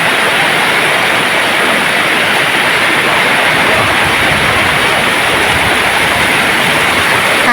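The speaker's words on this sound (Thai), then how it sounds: "ไม่ค่อยได้ยินเสียงนะคะเพราะว่าฝนตก ตกไปแล้วหยุดไปแล้วนะคะ ตกมาอีกรอบหนึ่งนะคะ" Heavy rain pouring down steadily in Thailand during a second downpour, with flooding water, a dense continuous broadband roar filling the whole clip, loud and unbroken with no voices.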